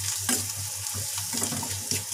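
Poha being mixed with turmeric powder in a pan, giving a steady low hum with soft scraping and light sizzling, a few sharper spoon scrapes standing out near the start and end.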